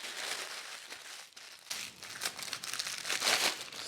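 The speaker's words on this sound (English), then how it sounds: "I'm going to crumple the parchment first" Parchment paper being crumpled by hand in a home kitchen before lining a 15 by 10 inch baking tray: close, continuous crinkling with bursts of crackle, growing louder toward the end.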